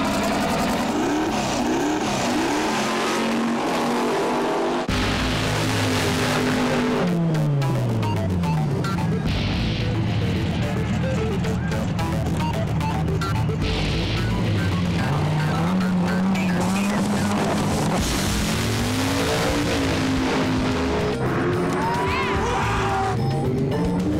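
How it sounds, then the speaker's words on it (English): Old-school drag race cars at Tucson Dragway, loud engines roaring and revving with rising and falling pitch, tires squealing and crowd noise mixed in, continuous and close throughout. "It's drag racing"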